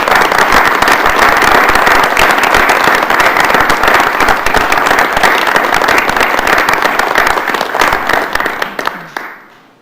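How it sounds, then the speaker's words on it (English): A meeting room gives a dense, steady round of applause for task force leaders at a university system board of regents meeting, with many hands clapping loudly close by before it fades out at the end. "Let's give our task force leaders a round of applause"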